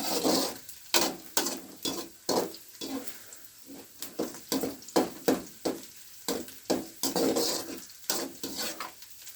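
Onions sautéing in a pan for Tamil egg rice, with a steady run of short scraping stirs and soft sizzling at a regular rhythm, close and moderately loud.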